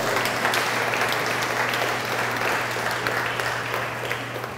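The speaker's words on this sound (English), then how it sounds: "Give them a round of applause." Steady applause from an audience at the Eastern Caribbean Central Bank's 35th anniversary celebration, a dense even wash of clapping that holds throughout with a low constant hum beneath it.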